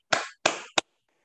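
Three sharp hand claps at an Indonesian parenting talk, the first two evenly spaced and ringing briefly, the third quicker and shorter, close and distinct against near silence.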